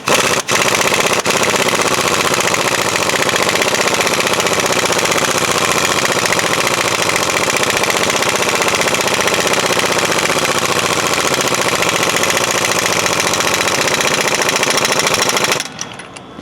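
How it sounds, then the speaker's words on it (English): An impact wrench with a 1 5/16 inch socket drives a traction bar bolt on a 2008-2026 Ford Super Duty, hammering loudly and continuously for about fifteen seconds before stopping abruptly. "We're going to use an 1 5/16 socket here, and it's best to use an impact because it'll help stopping this bar from spinning."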